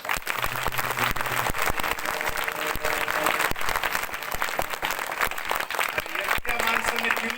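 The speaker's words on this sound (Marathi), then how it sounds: "मनोज पाटील जरांगेसाठी सर्वांनी टाळ्या वाजवा" An audience at a Shivaji Jayanti kirtan gathering applauds for Manoj Patil Jarange, a loud, dense, sustained burst of clapping from a large crowd that carries on without a break.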